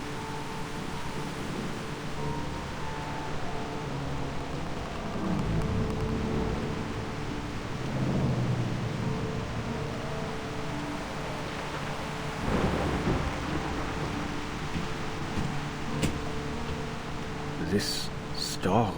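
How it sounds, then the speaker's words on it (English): A thunderstorm rolls through a video game scene, with steady rain hiss and low rumbling thunder swelling and fading across the stretch, heavy and continuous with no talk. "This storm is quite a delightful surprise."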